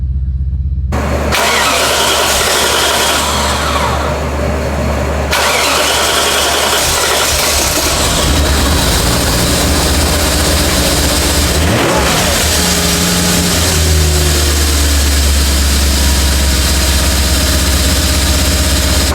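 A 1995 BMW E34 540i's M60 V8 engine, which has problems, cranks roughly and catches, revs loudly, then settles into a strong, steady idle with occasional blips of throttle, close and loud.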